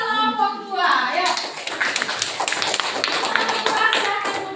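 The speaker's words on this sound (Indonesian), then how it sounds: "Kita berikan dulu tepuk tangan untuk kelompok 2" Classroom audience clapping for a student group after its presentation, a burst of brisk hand claps starting just after a voice speaks and continuing steadily to the end.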